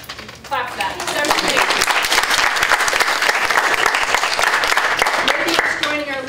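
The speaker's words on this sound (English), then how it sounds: "Clap for that." A school welcome audience breaks into loud, full applause that swells quickly and holds steady, many hands clapping densely together, with a speaker's voice briefly heard at the start and end.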